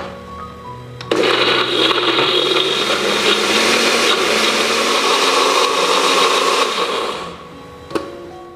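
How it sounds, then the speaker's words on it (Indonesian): A kitchen blender grinds shallots, garlic and cooking oil into a spice paste, roaring loud and steady for about six seconds before winding down, with a small clunk near the end. "Bumbunya akan kita haluskan dengan blender sampai benar-benar halus ya."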